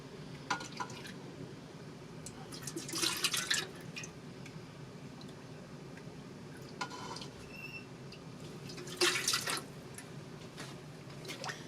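Melted wax ladled into a container for wax melts, giving soft intermittent liquid pours and drips with a few brief clinks, quiet and close, no talking.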